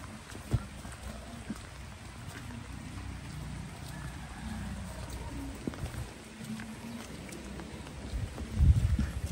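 Steady rain falling outdoors, a soft continuous patter with scattered drops, moderately close, with a louder rustling burst near the end.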